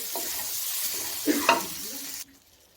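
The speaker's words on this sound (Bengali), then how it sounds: "এক চামচ লঙ্কার গুঁড়ো দিয়ে ভালো করে মিশিয়ে নেব মশলাটাকে ভালো করে কষে নেব" Chili-powder masala for a Bengali potato curry (alur dum) sizzles steadily in a pan while being stirred, with a couple of louder scraping stirs near the end before the frying sound drops away abruptly.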